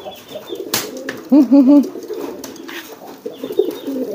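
Male giring pigeon cooing to a hen during courtship training, a close burst of rolling, throaty coos with softer coos later, faint rustling and a brief voice in the background.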